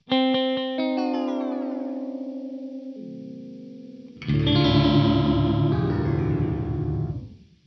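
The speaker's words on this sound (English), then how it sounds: "this is another one which is now a factory preset using the twist delay" A guitar through a twist delay pedal preset rings out repeated, smeared echoing notes, then a heavier distorted chord swells with warbling repeats before fading.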